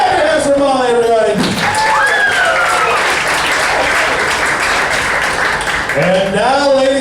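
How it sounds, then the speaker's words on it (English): An audience claps and cheers steadily for several seconds in a lively improv show at Jumpin Jupiter, loud and continuous, with a voice shouting over the start and end. "Clap your hands for Molly, everybody."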